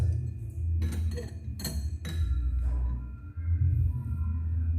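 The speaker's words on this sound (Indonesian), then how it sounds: "Kita letakkan sendok dengan kedelai ini di gelas, dalam gelas." A metal spoon holding soybeans is set into a glass for a heat-conduction science experiment, giving a few sharp clinks against the glass close up over a low background hum.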